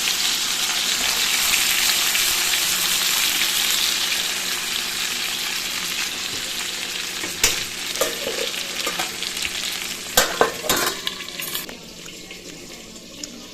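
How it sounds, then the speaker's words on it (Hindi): Pink parathas fry two at a time in shallow oil with a loud, continuous close-up sizzle, broken near the end by sharp clinks and scrapes of a utensil. "इसलिए दो दो करके फ्राई कर रही है मम्मी"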